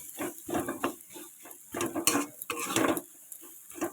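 Potatoes being stirred and mashed in a pan, a spoon scraping in repeated close strokes with light sizzling underneath, no talking.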